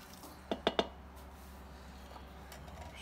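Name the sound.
rinsed canned black beans dumped in and stirred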